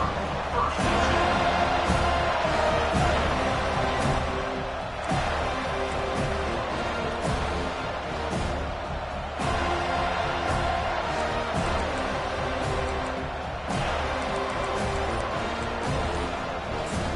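Steady roar of an American football stadium crowd at a Georgia game, cheering loudly and continuously throughout with a few surging swells, mixed with a commentator's voice.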